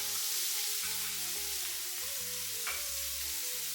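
Shrimp sizzle in butter in a hot pan, a steady, close frying hiss that runs the whole time alongside low tonal sounds in the background.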